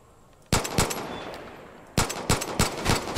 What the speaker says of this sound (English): I'm gonna use my pistol.